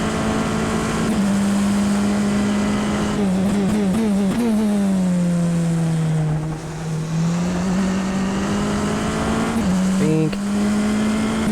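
A Tatuus F.3 T318 race car in rFactor 2 holds a steady, loud engine drone at Donington Park, then shifts and drops in pitch into a hairpin before climbing back up, while someone talks over it.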